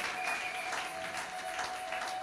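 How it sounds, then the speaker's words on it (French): A church congregation claps in acclaim during a Sunday worship service, a sustained, moderately loud wash of applause that fills the whole moment, with a faint held tone running beneath it. "Acclamez Jésus. Acclamez Jésus. Acclamez Jésus."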